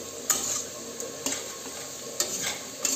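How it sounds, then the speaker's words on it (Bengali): A vegetarian dish being stir-fried in a pan, a soft steady sizzle broken by four sharp scraping strokes of the spatula at roughly even intervals, close and clear with no talking. "এটাতে আমি ভালো করে একটু কষিয়ে নেবো যতক্ষণ একটু গন্ধ বেরোচ্ছে"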